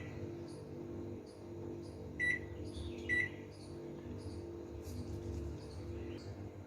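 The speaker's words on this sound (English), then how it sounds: "we are going to melt our agarose in microwave" A microwave oven melting agarose for a gel hums steadily, with a few short high beeps and clicks sounding over the drone.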